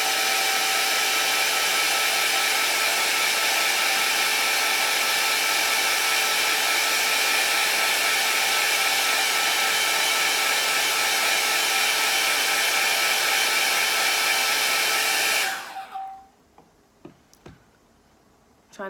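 A hair dryer blows steadily and loudly to dry acrylic paint on a still-life canvas, running continuously before cutting off near the end, leaving a few faint ticks and knocks.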